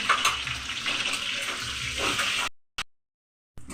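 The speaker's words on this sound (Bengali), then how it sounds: "এতে ডিমগুলো একটু ভালো করে ভেজে দিতে হবে" Salted eggs fry in a pan for a curd egg curry, a dense close hiss with stirring for about two and a half seconds, then cut to silence apart from one brief burst and a return at the end.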